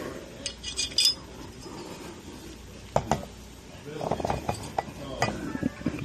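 Metal parts of an Auto Ordnance 1911 pistol being reassembled, including its sear spring: scattered small clicks, taps and scrapes at close range, with a few sharper metallic knocks mid-way.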